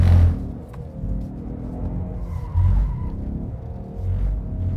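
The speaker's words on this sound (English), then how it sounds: "so the Mustang Ecoboost drifts very nicely." A Ford Mustang EcoBoost drifting across a mixed surface, its engine rumbling and surging in repeated waves with tyre scrub, heard fairly close and loud, with no talking.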